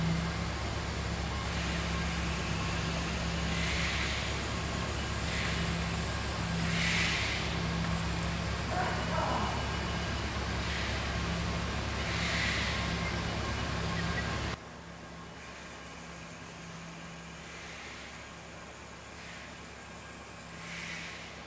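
A REM-16 electric tapping arm cuts a threaded hole to a preset depth and reverses back out. Its motor gives a steady, fairly faint mechanical hum, then shifts abruptly to a quieter tone partway through as the tap backs out.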